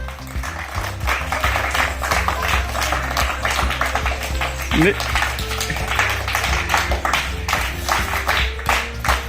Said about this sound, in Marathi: चला टाळ्या वाजवा टाळ्या बाकीचे